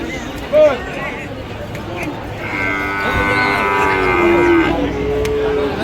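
Friesian-type cattle and bulls at Ambari haat livestock market in Dinajpur, a few loud close moos rising over a busy crowd murmur and nearby voices.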